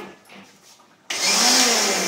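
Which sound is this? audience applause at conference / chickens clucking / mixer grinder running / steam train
mixer grinder running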